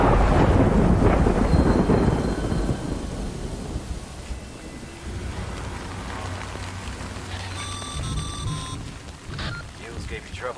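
Steady rain with rolling thunder in the video game Death Stranding, a heavy rumble fading into continuous rainfall, with short electronic tones near the end.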